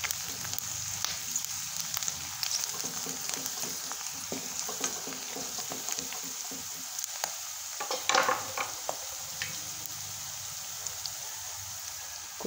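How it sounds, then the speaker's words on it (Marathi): Roasted peanuts going into upma as it fries, a steady close sizzle with continuous stirring and scraping throughout, no voices. "ह्याच्यामध्ये आपण शेंगदाणे भाजून घेतलेले शेंगदाणे पण टाकून घेऊ"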